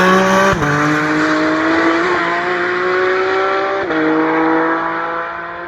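Cars at speed on the Nürburgring race track, including a Ferrari SF90 and BMW G82 CSL, with a loud continuous engine drone whose pitch shifts as gears change a few times, close and alone before fading slightly at the end.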